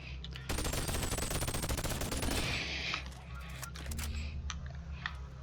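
Rapid SMG fire in the VR shooter Boneworks, a dense fast burst lasting a couple of seconds and then a few scattered single shots, fairly close over a steady low game hum.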